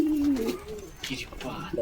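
Native deshi pigeons coo nearby, a low warbling call at the start followed by softer, broken cooing and light rustling.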